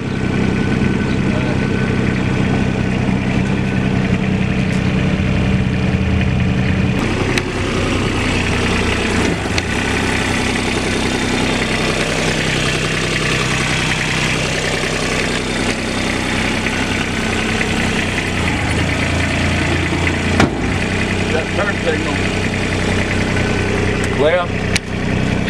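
A 2009 Kubota RTV900 utility vehicle's engine idles in a steady, continuous low rumble close by throughout, with a voice talking over it.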